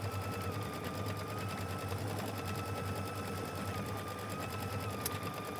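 A sewing machine stitches out a quilt block in one steady, continuous mechanical whir with a fast, even rhythm that never stops. It is heard alone, with no talking.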